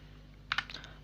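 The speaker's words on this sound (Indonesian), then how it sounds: "Di sini kita ketikkan IP, lalu masukkan IP-nya mau berapa." A few quick keystrokes on a computer keyboard while an IP address is typed in, two sharper clicks followed by lighter taps, faint and close against a low steady hum.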